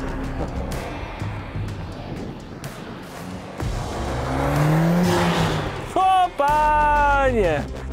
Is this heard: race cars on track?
yes